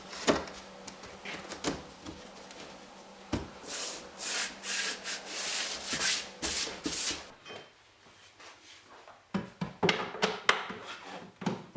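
A sheet of acrylic is cut in a workshop, with loud rasping bursts of cutting broken by short pauses and sharp knocks. The sound is close and continuous, with no voices.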